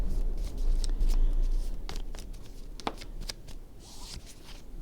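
Mauritana oracle cards being shuffled by hand up close, a continuous papery riffling with quick flicks and taps, fading slightly toward the end.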